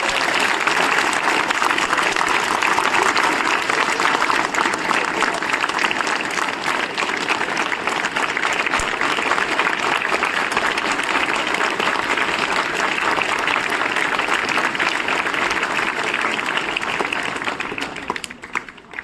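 An audience at a farewell ceremony claps steadily and loudly for about seventeen seconds, a dense uninterrupted wash of applause that fades out at the very end.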